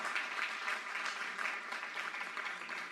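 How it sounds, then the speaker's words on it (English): Audience at a panel discussion on mental health stigma applauds the guests, a steady mid-distance wash of clapping that fills the whole stretch without speech. "Let's have a round of applause for our guests today."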